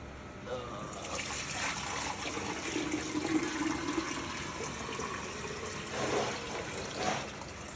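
RODI water trickles and pours steadily into a measuring container, a faint, continuous liquid stream with some background noise and brief voices underneath.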